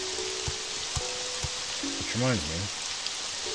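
Steady rain falls across a video game scene as a continuous broadband hiss, with a few soft low thuds and a tonal game sound, while someone speaks briefly over it.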